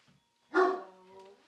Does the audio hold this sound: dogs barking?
yes